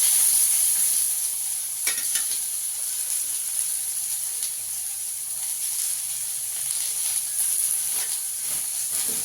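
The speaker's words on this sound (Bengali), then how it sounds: "একটু ভেজে নেব।" Onion and garlic fry in a pan with a steady close hiss and sizzle, broken by a few soft stirring scrapes.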